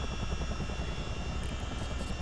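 A Chinook CH-47 twin-rotor helicopter in a flight simulator game produces a steady, heavy rhythmic thumping over a constant engine whine, continuous and close.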